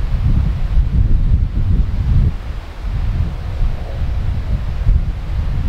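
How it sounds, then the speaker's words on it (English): Strong wind buffets the microphone in low, gusty rumbles at night at Collings Castle, easing briefly before picking up again; no voices. "Even though it's a windy night, the wind did not set that off"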